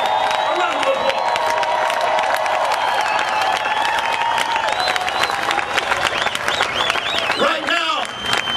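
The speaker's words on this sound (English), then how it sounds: "Let's give them a round of applause." Large outdoor Tea Party rally crowd claps, cheers and whoops loudly for soldiers, a sustained roar with shrill shouts and whistles rising near the end.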